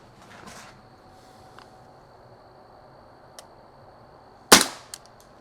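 Pellet pistol with a rifled barrel fired once, a sharp loud crack standing out near the end after a few faint clicks, with a quieter echo-like tap just after.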